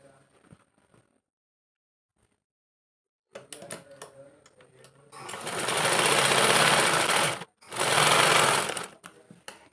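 A sewing machine stitches a fabric pencil pouch: a few quiet handling clicks, then two loud steady whirring runs close up with a short break between them.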